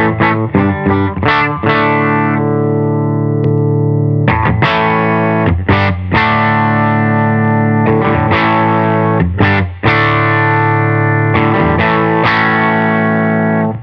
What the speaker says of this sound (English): running direct into the Benson Amps Monarch Reverb Plus, which sounds again like this.